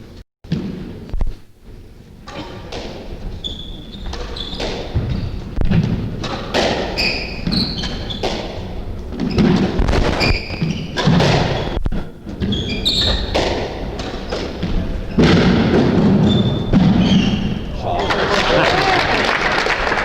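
A men's 30+ squash doubles match at the 1998 world championships: sharp ball impacts and thuds off the walls ring out repeatedly in an echoing court, with commentators talking and crowd noise throughout.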